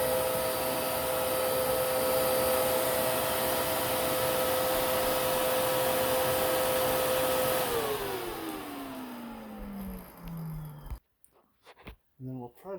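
A Filter Queen Majestic 360 vacuum cleaner runs with a loud, steady whine for about eight seconds, then its pitch falls as the motor winds down. Handling knocks follow near the end.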